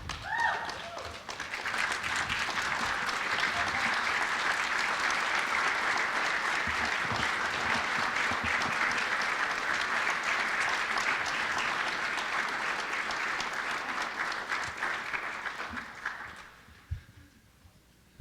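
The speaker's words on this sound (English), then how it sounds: "could you please rise and give a round of applause to one of the most noble, most humble people I know, Tom Kenny." Sustained audience applause at an athletic hall of fame awards ceremony, steady dense clapping from a large crowd lasting about fifteen seconds before fading out.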